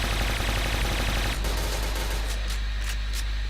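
Rapid automatic gunfire from a shooting video game, a loud sustained burst that cuts off partway, followed by a few sharper isolated shots with no talk.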